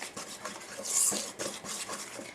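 A spatula stirs thick peanut butter frosting in a bowl, giving a steady run of soft scraping and smearing strokes with a brighter scrape near the middle, close up and alone.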